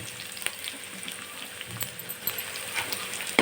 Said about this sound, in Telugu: అలానే పచ్చిమిర్చి ఇవన్నీ వేసి కొద్దిసేపు వేయించుకోవాలి